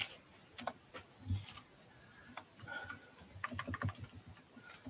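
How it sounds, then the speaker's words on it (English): Someone types on a computer keyboard in quiet, uneven bursts of keystrokes with short pauses between them, heard up close at low volume and with no talking. "Hit search. And I gotta type in."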